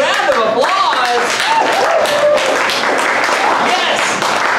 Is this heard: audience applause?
yes